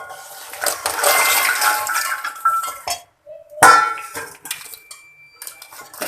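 A ladle tosses fried maida diamond biscuits through thick, sticky sugar syrup, making busy metallic clinks and scrapes with a brief quiet gap midway before the clattering resumes.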